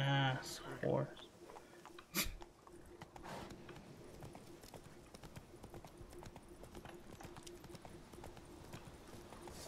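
Horse hooves clip-clop in The Witcher 3 video game, a steady trotting beat running under constant game background ambience, with brief voices and a sharp thump early on.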